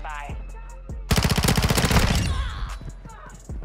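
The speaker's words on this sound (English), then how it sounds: "I don't normally use SMGs on this map" Rapid burst of PDSW 528 submachine gun fire in Modern Warfare 2, a fast rattling string of shots lasting about a second and a half, loud and close, with a few scattered game sounds before and after.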